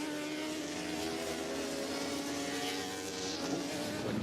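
Suzuki GSX-R1000 superbike of the Bennetts Halsall Racing Suzuki team in a BSB qualifying session at Knockhill, its high-pitched engine buzzing steadily at a distance, fairly faint.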